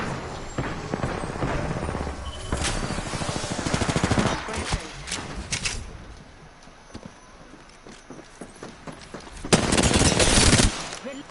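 Automatic weapon fire in the Apex Legends video game. Uneven bursts of rapid shots come and go over several seconds, with quieter gaps and a final loud flurry near the end.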